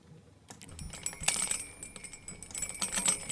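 Normalized foley of a metal chain and tambourine, dense bright metallic clicks and jingles in quick irregular bursts after a brief quiet start, close and crisp with no voices.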